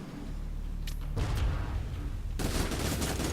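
Video game machine guns trade fire in a dense, loud fusillade of rapid shots, dropping briefly before a sharp burst of heavy gunfire picks up again.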